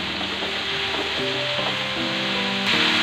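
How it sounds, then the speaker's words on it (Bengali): Onion and garlic frying in a pan for a bamboo shoot and dried fish dish, a steady close sizzle with soft stirring and scraping, with a tonal hum underneath throughout. "আমার পেঁয়াজটা ভাজা হতে থাক"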